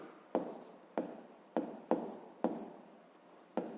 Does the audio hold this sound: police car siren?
no